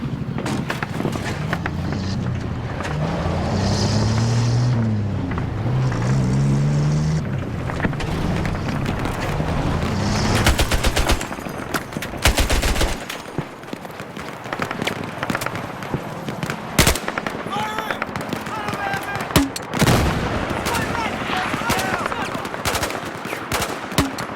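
Battlefield 4 gunfire crackles under a dense, constant wash of battle noise, with a few sharper shot bursts standing out partway through.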